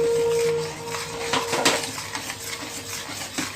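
Leftover meat curry being stirred in a cooking pot for haleem, with a spoon clinking and scraping against the metal pot in short bursts, close by and without talk.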